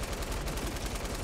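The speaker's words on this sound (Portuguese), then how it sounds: "Aqui conseguimos meter os tiros todos" SMG fire in Fortnite comes as a dense, continuous burst of rapid gunshots, loud and unbroken throughout the short moment, with no talk over it.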